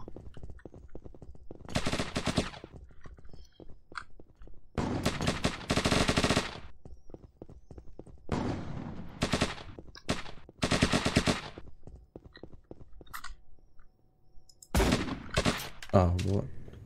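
Sniper and shotgun fire in a video game: loud, dense bursts of shots come in repeated clusters across the whole stretch, with quieter gaps between volleys and occasional faint voices.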